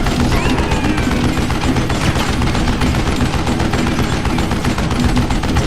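Continuous loud gunfire fills a Call of Juarez Gunslinger Western shooter video game, with rapid overlapping shots and no talking.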